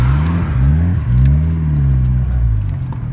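A turbocharged Honda Civic engine revs up and settles in a few smooth swells, loud and close, with the pitch rising and falling as it eases back toward idle.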